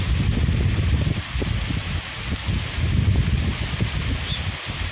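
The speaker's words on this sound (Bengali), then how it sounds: "প্রচুর পরিমাণ বাতাস।" Strong wind by a river buffets the microphone in loud, uneven low gusts, rising and falling over a steady background roar.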